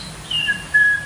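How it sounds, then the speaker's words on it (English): Birds calling on Disney's Magic Kingdom Jungle Cruise ride, a few thin, high whistling chirps in quick succession, clear and close over a soft background. "Suddenly, the treetops explode in a frenzy of outraged birds."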